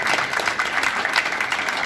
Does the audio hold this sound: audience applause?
yes